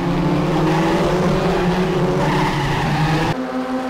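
Race cars in RaceRoom Racing, Formula Tatus open-wheelers at the Macau Grand Prix start, skid and roar together in a loud, steady engine drone with tire noise that drops off abruptly near the end.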